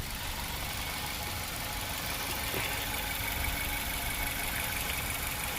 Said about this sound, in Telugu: ఇక్కడ ఇంజిన్ సౌండ్ ఒకసారి చూడండి.